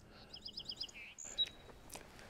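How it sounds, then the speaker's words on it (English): A song sparrow sings in the woods at Birch Bay State Park: a faint, brief run of quick high chirps and trills, followed by a couple of sharper single notes, with no voices. "Song sparrows singing in here."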